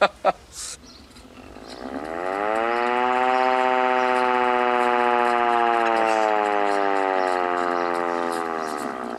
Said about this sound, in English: Would you like to go at the air raid siren?